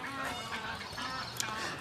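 Ducks or geese honk in a park near a walkway crossing to an island in Perth, Western Australia, scattered calls over a steady outdoor background with one sharper honk near the end.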